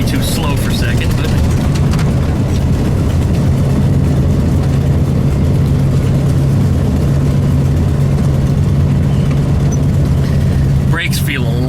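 A VW Super Beetle engine chugs along in second gear, a steady loud low drone with a constant hum throughout, heard from inside the car.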